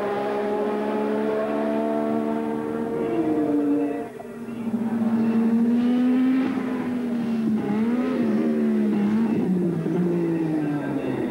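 A turbo race car engine roars close by on a qualifying lap, its high whine climbing and falling through gear changes, with a brief lift-off dip before revving hard again.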